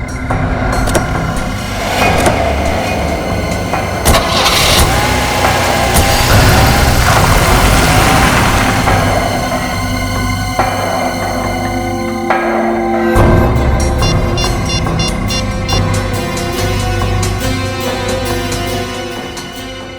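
A car engine starts and runs at a steady idle, a loud continuous rumble filling the scene with a layered music-like backdrop and no talk.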